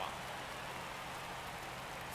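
Steady rain falls in MLB The Show 22 during a Yankees versus Cubs game in the Bronx, a dense even hiss that stays constant and fairly quiet the whole time, with no break in the wash.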